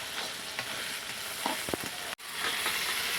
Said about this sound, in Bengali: মশলাটাকে কষিয়ে নিলাম, মাংসটা দিয়ে দিলাম